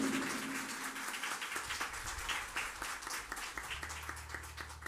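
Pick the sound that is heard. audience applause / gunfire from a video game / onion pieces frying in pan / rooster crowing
audience applause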